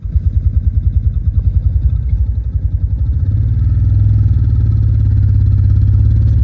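A motorcycle engine from a tuning track played through a car audio system thumps in a low pulsing rhythm, then revs into a steadier, deeper drone, loud and close.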